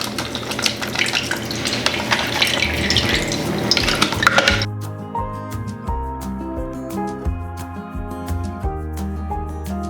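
Salted shredded cucumbers drain through a strainer, giving a steady wet hiss and trickle for the first few seconds before music takes over and covers it.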